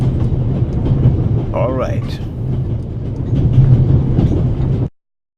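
Train running in the video game The Raven Remastered, a steady rolling rumble with rail clatter filling the whole stretch, with a brief squealing tone midway before the sound cuts off abruptly at the end.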